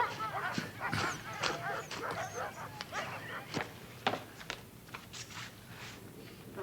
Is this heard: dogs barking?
yes